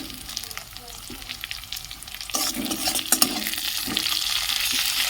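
A spatula breaks up fish as it fries in a pan, with scraping and stirring over a sizzle that grows louder and more continuous partway through.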